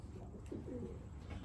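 A pigeon coos softly once in a short, low warble over a quiet indoor background hum.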